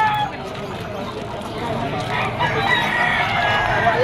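Young rooster (stag) crowing at a busy poultry market in Malabon, heard amid a dense background of other fowl and crowd chatter, with a steady crowing call rising partway through.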